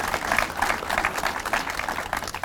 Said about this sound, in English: Yeah, you can go ahead and applaud.